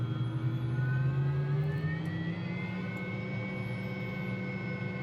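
A Bell 206 helicopter turbine in the Microsoft Flight Simulator 2020 sim, throttled up toward flight, giving a loud steady engine whine with rising tonal lines over a constant rumble.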